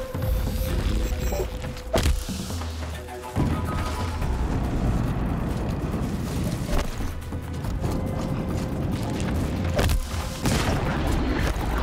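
Repeated deep booms and blasts of explosions in Horizon Zero Dawn: The Frozen Wilds thud at irregular intervals over a dense, rumbling layer of noise.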